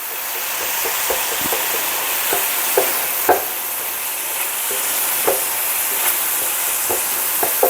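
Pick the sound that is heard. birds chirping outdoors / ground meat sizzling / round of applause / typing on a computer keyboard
ground meat sizzling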